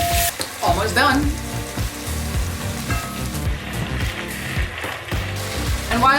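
Vegetables frying in oil in a home kitchen, a steady dense sizzle with scattered crackles running throughout, joined by music or voices in the background.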